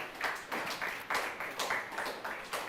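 Faint, rhythmic clapping from an audience at a press conference for a local premier league, with the claps arriving as brief, evenly spaced bursts.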